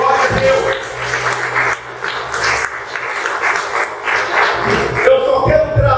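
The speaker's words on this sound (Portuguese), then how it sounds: "Uma salva de palmas por essa palavra." A church congregation applauding after a sermon, steady clapping from many hands at moderate loudness, with voices and some speech mixed in throughout.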